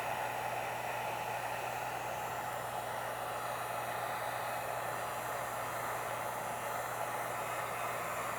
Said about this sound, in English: Make sure that you move the heat gun back and forth as to not apply too much heat consistently in one part.